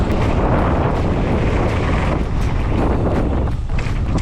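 Strong wind buffets the microphone continuously, a loud steady roar with gusty rumble and no other clear sounds.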